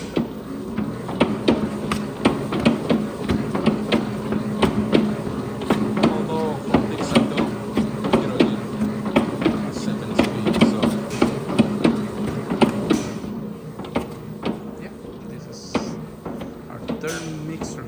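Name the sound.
Hobart 2.7 horsepower mixer mixing 90 pounds of dough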